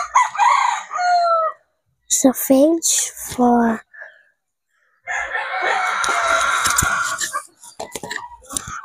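Roosters crow several times nearby at a chicken farm, long rising calls repeating over a few seconds, with a person talking briefly and a stretch of rustling background noise.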